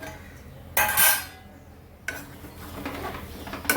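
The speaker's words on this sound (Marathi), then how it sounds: "तर झाकण काढून घेऊया." A metal lid comes off a pan of steamed, spiced cooked vegetables with a bright clatter, followed by a second scraping clink of metal on metal in a quiet kitchen.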